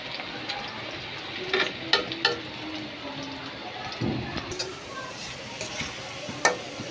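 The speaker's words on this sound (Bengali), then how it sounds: "কাঁচামরিচ, পেঁয়াজ, রসুন দিয়ে দিয়েছি। এটা সুন্দরভাবে ভেজে নিতে হবে।" Green chillies, onion and garlic fry in a pan with a steady sizzle, broken by several sharp scrapes and clacks of stirring, close and alone.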